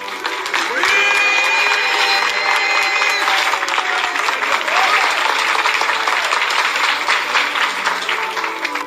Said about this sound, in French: Répondez par acclamation ou si oui.